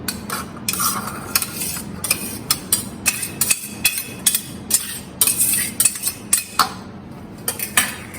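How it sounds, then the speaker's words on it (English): Boiled vegetables being mashed and mixed by hand for cutlets with no onion or garlic: a steady run of close, sharp clinks and scrapes of utensil against bowl in uneven rhythm, with no talking. "You mash it up, okay? And you mix all the veggies in it."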